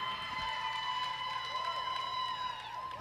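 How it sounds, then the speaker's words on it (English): Crowd at a roller derby tournament in Fort Lauderdale cheering and roaring in an arena, a steady wash of noise beneath a commentator talking, with whistle-like tones running through it. "the crowd here in Fort Lauderdale goes absolutely berserk"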